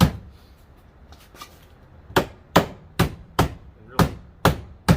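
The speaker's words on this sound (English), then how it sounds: "Now this hammer has two sides, a flat side and a little curved side." Hammer taps on the rear fender trim of a WJ Jeep Grand Cherokee being flattened: after a quiet start, seven sharp, evenly spaced metallic knocks ring out close by, alone with no talking.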